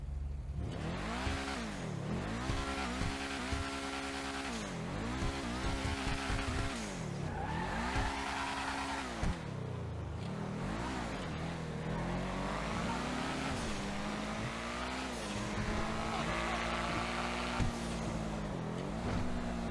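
An Ocelot Lynx sports car in GTA Online revs repeatedly through its gears, with the engine note climbing and dropping in steady waves. It sounds close and continuous, with tire squeal and no talking.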